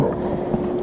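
Wind buffeting a bass fishing boat on South Holston Lake, a dense close rumble of gusting air across the microphone, steady and loud with no break.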